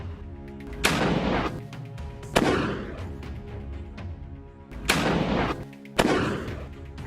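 Sniper rifle fire in war footage from fighting between Hamas and the IDF in Rafah, shot from a distant building. Four sharp, loud cracks come at uneven intervals, and each one trails off into a rumbling echo.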